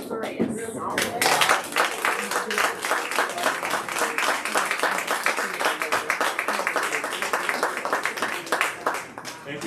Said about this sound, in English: if you'll give Derwin a round of applause.